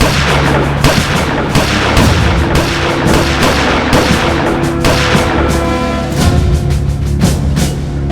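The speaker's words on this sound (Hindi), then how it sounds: "गन कंधे पे, लोड करो, फायर" Rapid, dense gunfire, with bursts of shots and booms running continuously at close range, loud and without talk, in a staged crime-drama scene of an armed group firing shouldered guns.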